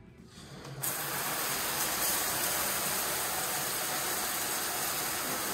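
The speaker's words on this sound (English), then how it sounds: "That's good water pressure right there." A shower is switched on and runs at strong pressure, breaking into a loud, steady hiss of spraying water after a quiet first second and holding that level to the end.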